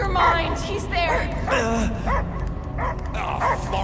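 Dog barking in the Guardians of the Galaxy video game, repeated yips and barks under busy game sound and characters' voices.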